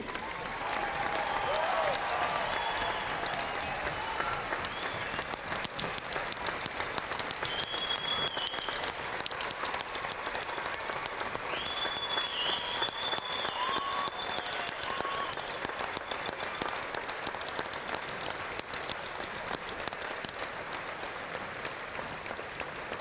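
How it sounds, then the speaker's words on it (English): Outdoor crowd at a Fiesta Days flag retirement ceremony gives a long, steady ovation for military members, sustained distant clapping with faint whistles and cheers throughout. "one big ovation for our members of our military"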